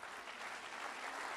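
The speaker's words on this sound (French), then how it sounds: "On peut encore l'applaudir" Audience applause for a performer at a Puy du Fou congress, a continuous dense wash of many hands clapping, even and steady, heard faintly from a distance.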